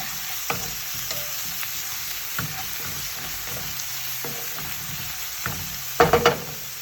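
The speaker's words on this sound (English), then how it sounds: "And the ginger. Stir that around a little bit." Pot sticker filling of garlic and ginger being stirred as it fries in a pan, a quiet continuous sizzle with scattered scraping taps of the spoon and a quick burst of clattering strokes near the end.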